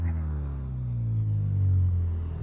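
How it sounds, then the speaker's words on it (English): Car engine in a racing simulator game, a low, steady droning rumble with smooth rising and falling tones, loud and close with no talk over it. "Engine."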